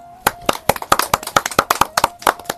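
A few people clap by hand at a home birthday celebration for a girl, giving a quick, uneven run of sharp close claps lasting a couple of seconds.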